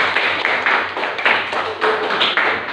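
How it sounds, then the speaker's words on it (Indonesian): A class of fifth-grade pupils claps hands together in a school classroom, a dense, steady patter of many small hands close by, with slight swells in rhythm and no talking over it. "Tepuk tangan buat Moza."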